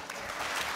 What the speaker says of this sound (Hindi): चलो सब तालियों की बीट दो।